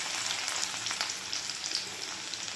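Chopped garlic sizzling in hot oil in a wok, a steady close, bright frying hiss with small crackling pops running through the whole stretch, no voices.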